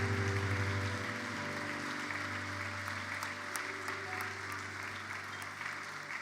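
Church congregation breaks into sustained applause at a worship service, a dense wash of clapping that swells loudly at first and then holds steady, with some voices mixed underneath.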